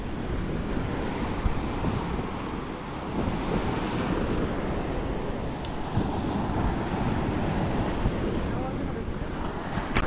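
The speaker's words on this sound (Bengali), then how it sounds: "সেরা ঢেউ এসছে," Sea waves break continuously on the beach at Old Digha, a steady roaring wash of surf with strong wind buffeting the microphone throughout.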